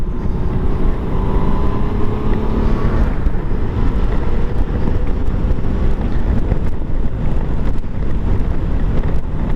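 Honda GL1500 Goldwing motorcycle cruising at highway speed on new tires, a steady broadband road and wind roar with a low engine drone throughout, heavy wind buffeting on the microphone, no talking.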